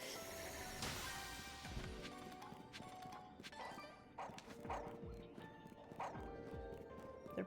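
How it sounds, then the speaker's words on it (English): Creatures bark in Pokemon Legends Z-A, a game scene also full of hoof-like clip-clop steps, crashes and busy ambience; the barks come in a few sharp bursts near the middle and end, moderately loud within the mix. "They're barking at me."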